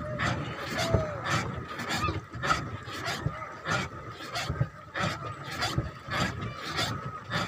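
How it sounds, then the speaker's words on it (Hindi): Ducks being fed on Ghora Katora lake in Rajgir, Bihar, heard from a boat, give repeated honking, quacking calls in a steady rhythm of bursts over a busy background murmur. "बत्तख को भी दाना डालते हुए।"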